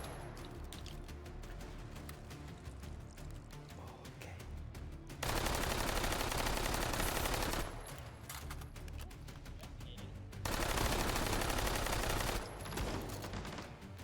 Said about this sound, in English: Leshbian is just making good use of that SMG